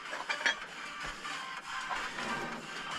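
The cardan driveshaft on a KhTZ-17221 tractor turns after replacement, giving a steady close mechanical whirring and rattling with light clicking, with no voices.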